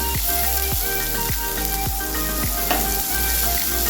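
Chopped onion and tomato sauté in oil in a pan for a chickpea curry, a steady bright sizzle with regular scraping strokes of a spoon stirring every half second or so, close and unbroken.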